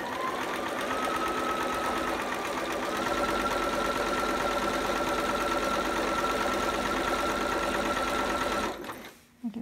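A sewing machine stitches down the body seam of a bell-sleeve romper in a continuous, even mechanical whir that runs for several seconds before stopping abruptly at the end.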